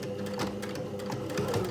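A sewing machine stitches through the handles of a reversible tote bag, giving a brief, close, rapid ticking chatter that runs evenly.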